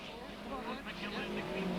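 TVR Tuscan race cars at a 1999 Tuscan Challenge race sweep past on the circuit in a continuous engine roar, with a commentator talking over it throughout.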